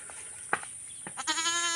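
Goats on a rural family homestead, with a short bleat beginning near the end after a couple of soft thuds and rustles, the call close and steady.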